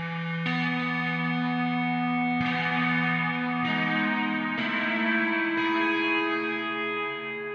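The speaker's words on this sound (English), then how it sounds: "let's hear the amp signal with some of that stairwell reverb" Electric guitar amp signal washed in concrete stairwell reverb: a few struck chords ring out, each attack blooming into a long, dense, echoing tail that overlaps the next, continuous and fairly loud with no talking.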